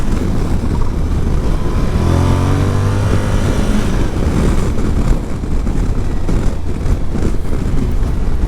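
Suzuki V-Strom 1050 motorcycle on a test ride, engine droning steadily under heavy wind roar with rising and falling tones as revs change, loud and continuous from the rider's position.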